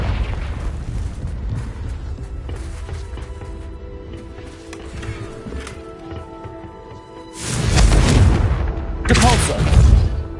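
The Confringo fire spell explodes in Hogwarts Legacy: a steady hum of game ambience, then two loud, booming blasts near the end, each a broad roaring burst that fades quickly.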